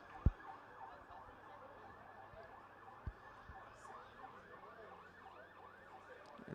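A Towson ambulance siren wails in repeated rising-falling sweeps, faint and steady as it passes near a high school football game, with a few low thumps and distant crowd noise underneath.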